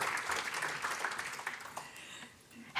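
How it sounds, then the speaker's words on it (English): An audience at a nicotine policy conference keynote applauds to welcome a speaker, a dense, even patter of many hands that tapers off after a couple of seconds. "Please welcome Maria with a nice round of applause, everyone."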